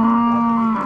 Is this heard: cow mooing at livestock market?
yes